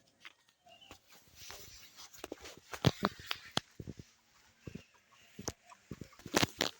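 Chickens clucking in short, irregular bursts, with sharper calls standing out against a quiet outdoor background.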